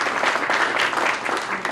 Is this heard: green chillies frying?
no